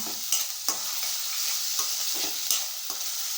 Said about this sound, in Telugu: ఇలా ఉల్లిపాయ ముక్కలు దూరగా వేగాలండి